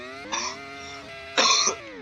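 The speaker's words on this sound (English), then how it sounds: "Pardon my coughing." Two short, close coughs about a second apart, heard over a steady droning engine hum.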